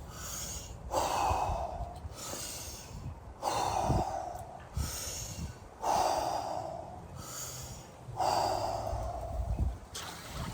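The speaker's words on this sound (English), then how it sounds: "the first thing I'm gonna do is use a few breaths to warm up a little bit" Deep warm-up breathing before an ice bath, four long forceful inhalations and exhalations in a steady rhythm, close and alone with no talking.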